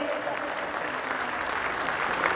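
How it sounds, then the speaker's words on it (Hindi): An audience at a book release for the seventh edition of Tarun Sagarji Maharaj's kadve pravachan keeps up continuous applause, a dense, even wash of many hands clapping, moderately distant. "तालियां बिल्कुल भी बंद नहीं होना चाहिए।"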